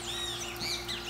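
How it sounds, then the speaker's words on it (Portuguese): Small bird singing outdoors during light rain, its bright chirps and warbles repeating faintly over a soft steady background hum. "Pássaro cantando."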